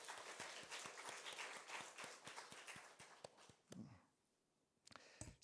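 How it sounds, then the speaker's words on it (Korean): Church congregation applauding together during a Sunday worship service, a dense burst of clapping from a crowd in a reverberant hall that thins and stops, then a few scattered claps near the end. "우리 찬양팀 또 혜빈자매 위해서 우리 박수 한번 하겠습니다."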